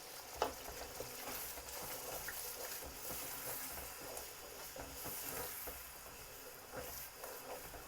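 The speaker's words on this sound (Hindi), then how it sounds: "एक मिनट के लिए इसको भूनेंगे।" Daal mash sizzles and fries in a pan with chilli, turmeric, dried fenugreek leaves and whole red chillies, a steady close hiss with light stirring scrapes throughout and no voices.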